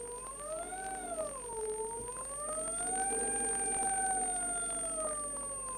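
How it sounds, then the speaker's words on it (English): A Nissan Leaf electric motor driven by an ANOVA inverter whines smoothly, its pitch rising, dipping and climbing again with the throttle, while a thin constant high tone sits above it. "Very smooth control of our Nissan Leaf motor. With our ANOVA inverter"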